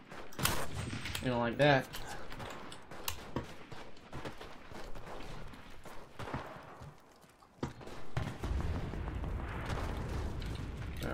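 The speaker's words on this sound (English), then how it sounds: "Hey, I'm being shot at." WWII battle gunfire and explosions boom and crackle in the game Enlisted, heavy rumbling blasts and scattered shots, with someone talking over the fighting.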